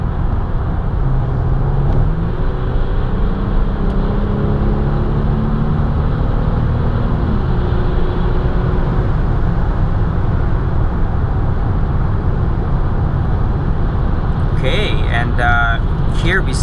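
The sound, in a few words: busy highway traffic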